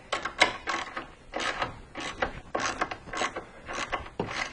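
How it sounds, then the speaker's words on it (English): A Craftsman ratchet turning a 13 millimeter socket during car repair work, heard as repeated close bursts of rapid clicking in short strokes with brief pauses between them. "This is a Craftsman ratchet."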